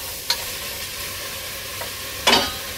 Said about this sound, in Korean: 이렇게 열심히 볶죠